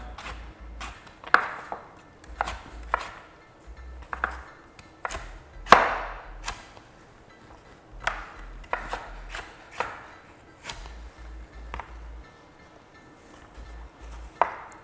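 A knife chops through stacked vegetables on a cutting board for a salmon salad, delivering a long run of crisp, close chops in quick clusters with brief pauses between them.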